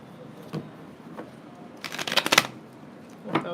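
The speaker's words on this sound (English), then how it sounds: "A couple more shuffles for Virgo." A deck of tarot cards is shuffled in short, quiet bursts of riffling flutters, close and soft with brief pauses between.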